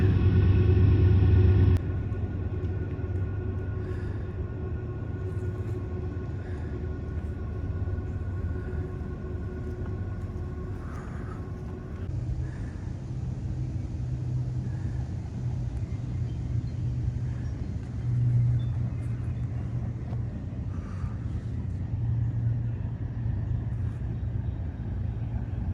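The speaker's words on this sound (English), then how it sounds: "Some of this definitely has the sound of trains in the background." A steady low rumble of a train passing on a loud railway beside the Upper Lake Loop trail at Twin Lakes, moderately distant and continuous, with no talking.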